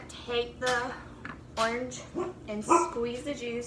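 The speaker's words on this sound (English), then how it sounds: "Sorry, that's my dog." A pet dog barks and yips in a few sharp bursts close by, overlapping a person talking through a home orange-juice experiment.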